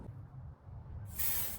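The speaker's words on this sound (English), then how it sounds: "I took everything outside and sprayed the seam down with spray adhesive" Temporary spray adhesive hisses from an aerosol can onto a fabric seam outdoors in a short, loud burst near the end, after a quiet stretch of low background rumble.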